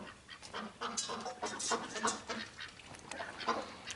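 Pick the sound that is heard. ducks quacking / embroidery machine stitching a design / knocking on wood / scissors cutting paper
ducks quacking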